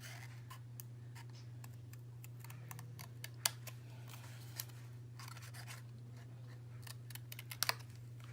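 Scissors cut paper window panes out of a sheet: sparse, scattered snips and scratchy paper sounds over a low steady hum, with sharper clicks near the middle and end.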